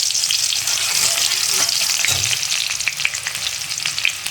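Garlic frying in hot oil in a pan, giving a loud, continuous close sizzle with a few light stirring ticks, no talking.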